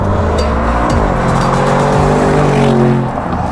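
Audi RSQ8 Performance launching hard in a drag race, a loud, close engine roar climbing through gears with sharp shifts and a brief tire squeal, steady and powerful throughout.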